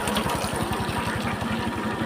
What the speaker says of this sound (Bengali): ভাই মোটর সাইকেল ভয়ে ভয়ে নিয়ে যাচ্ছে যেন না স্লিপ কাটে।